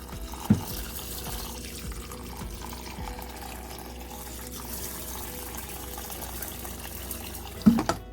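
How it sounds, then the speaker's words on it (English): Filtered tap water pours steadily into a pot of rice for a cooking dish, making a continuous close splashing and rushing sound with a couple of brief knocks at the start and end. "I just need to add the water."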